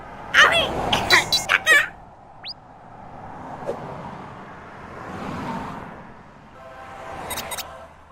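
A child gives a quick burst of several short, sharp coughs close by, followed by quieter background noise and faint sounds.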